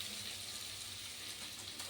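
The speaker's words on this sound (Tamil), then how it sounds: "ஒரு கிளாஸ் வாட்டர் ஊற்றிருக்கோம், ஒரு ஸ்மால் கிளாஸ் வாட்டர்" Water poured from a small glass into a pan of pasta and vegetables, a faint continuous splashing trickle heard close, with a light sizzle beneath it.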